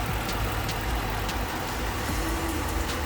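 A repaired 2021 Jeep Grand Cherokee Overland engine idles steadily with the heater running, a constant close low rumble with no revving.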